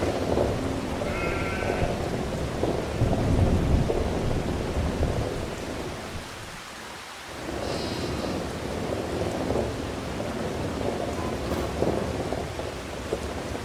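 Thunder rumbles and rain pours throughout a stormy scene in the video game Farming Simulator 25, with a brief lull in the middle and faint sheep bleats in the background; no one speaks.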